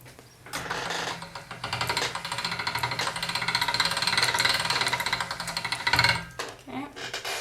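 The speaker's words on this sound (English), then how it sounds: "Now I want to run this through the pasta machine again on my second thickest setting, just to flatten it out." Polymer clay being rolled through a pasta machine on its second thickest setting to flatten it for a star-themed necklace, giving a steady close mechanical whirring and rattling of cranked rollers for about five seconds, with a faint voice briefly at the end.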